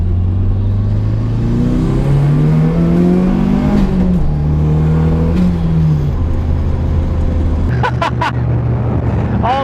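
A turbocharged Mazda Miata accelerates hard at full boost, its loud engine note climbing and droning close up through the gears, followed by brief shouted voices near the end.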